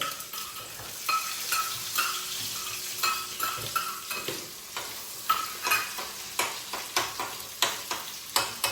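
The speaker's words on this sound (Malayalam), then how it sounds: "ഉള്ളി ഇടാണ്." Onions fry in sunflower oil with mustard seeds, hissing steadily up close while a utensil scrapes and taps the pan in a repeated stirring rhythm that grows more regular toward the end.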